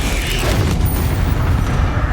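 Incendio fire spell in the video game Hogwarts Legacy, a steady, loud roaring whoosh of flame with deep rumble that holds evenly for a couple of seconds.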